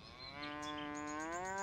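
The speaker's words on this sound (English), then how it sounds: "Oh, someone's got their cows out here." A cow's moo from the Run 8 train simulator game, heard in the Rice Yard rail yard: one long, drawn-out call that rises slightly in pitch and is fairly clear over a quiet background.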